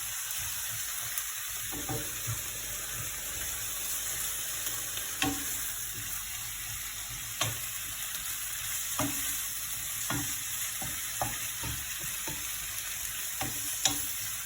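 Tomato purée stirred in a hot frying pan for a stuffed courgette tart with rice, vegetables and minced meat, a continuous sizzle with a regular series of spoon scrapes and taps against the pan.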